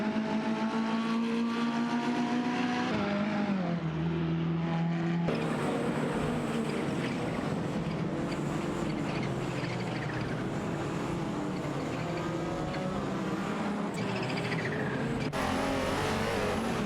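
A Porsche 944 Turbo and a Porsche 911 Carrera RS 3.8 race car battling on track, engines droning and shifting pitch steadily through gear changes, loud and continuous with no talk.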